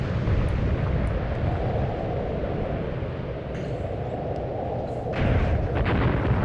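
Polish units fire their guns in Tank Warfare: Tunisia 1943, a dull, continuous rumble of distant gunfire that swells into a heavier burst toward the end.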